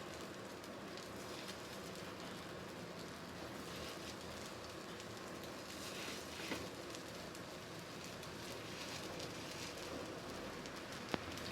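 Sprouted mung bean tikki frying in a little oil over a low flame: a steady, even crackling hiss of sizzling oil that runs unbroken and close throughout, with no talking.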